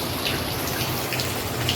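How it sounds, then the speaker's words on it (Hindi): Steady morning rain falls outdoors at a home, a continuous close hiss of drops with scattered brighter patters, no voices. "तो आज सुबह से बारिश पूरी शुरू है"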